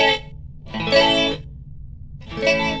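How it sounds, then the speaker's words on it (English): A DSP reverb chip rehoused as a guitar pedal, on a chorus-like modulation program: short guitar chords and notes with a warbling, doubled shimmer, moderately loud and alone. "I'm assuming it's a chorus"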